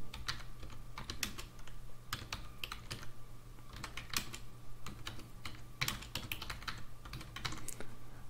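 A command being typed on a computer keyboard, with quiet, close key clicks coming in irregular quick runs over a low steady hum.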